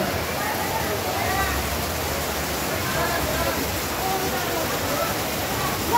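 Torrential rain and floodwater in Solapur roar as a thick, constant wash of noise, loud and unbroken, with speech faintly mixed in.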